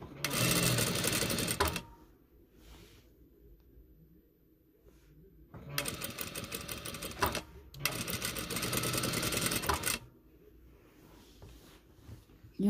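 A sewing machine stitches a fine, narrow hem on a hijab in three fast, loud, close bursts, with quiet pauses between them.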